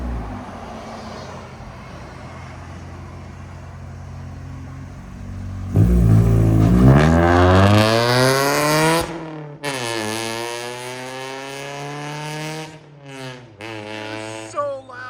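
1999 Honda Civic with aftermarket headers and a Netami resonator idling, then revving hard with a loud raspy rising exhaust drone, dropping back and blipping several more times; voices briefly mix in.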